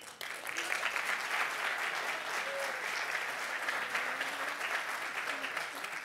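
A large audience at a mayoral candidates forum applauds the two candidates, a broad, continuous wash of clapping that swells in quickly and holds steady, with faint voices and a brief whistle-like tone riding on top.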